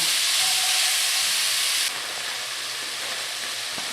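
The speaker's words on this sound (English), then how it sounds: "Saute that for a little bit. Want these vegetables to kind of soften." Vegetables and sliced mushrooms sauté in a pan for a braised short rib ragu, giving a steady bright sizzle that drops abruptly to a softer, quieter hiss partway through, with a faint clink near the end.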